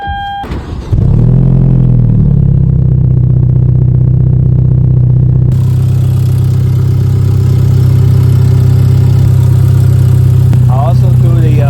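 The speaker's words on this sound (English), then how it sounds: "So I want to find out what Jenny sounds like without her filter on." Hyundai Genesis Coupe turbo engine with its air filter removed cranks and fires, then settles into a loud steady idle that swells as it revs higher partway through, recorded close.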